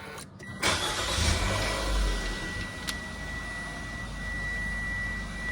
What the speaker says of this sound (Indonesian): Untuk menyalakan mesinnya sudah menggunakan start stop engine button.